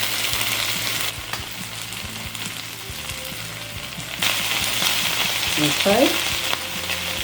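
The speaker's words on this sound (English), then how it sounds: "Continuously stir it for about 10 minutes, maybe 15, by lifting the pan up a little bit." Potatoes and spam sizzle loudly in a pan while being stirred continuously, the steady frying hiss swelling in the second half with clanks of the utensil, and a brief spoken word.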